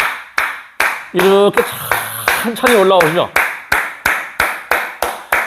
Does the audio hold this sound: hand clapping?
yes